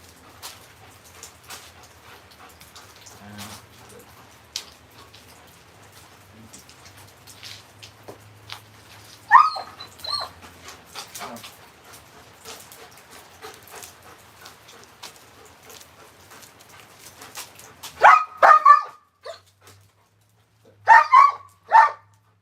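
A shepherd dog barks, whimpers and pants in scattered, mostly faint bursts through a long quiet stretch, with several louder, closer yelps and barks clustered near the end.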